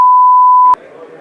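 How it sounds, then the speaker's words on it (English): A steady censor bleep tone holds for about three quarters of a second in a boxing interview, then cuts off abruptly into low background noise. "Can you not just bleep it?"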